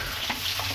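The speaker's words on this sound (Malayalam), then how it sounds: "അപ്പൊ നമ്മൾ സവാള ഇങ്ങനെ ഇളക്കി ഇളക്കി ഇളക്കി" Onions sizzle steadily in a hot pan while being stirred, a continuous hiss with faint scraping, close and fairly loud.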